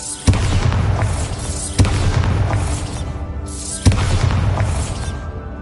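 Bombarda blasting spell explosions in the Hogwarts Legacy video game, three loud booming bursts at regular intervals, each with a sharp onset and a long rumbling tail that overlaps the next.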